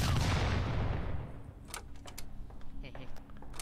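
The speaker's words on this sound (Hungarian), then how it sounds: "Az robban." An explosion in the horror video game Hospital 666 opens with a loud broadband blast that decays over about a second, followed by scattered sharp crackles and debris-like clicks; a player talks in the background.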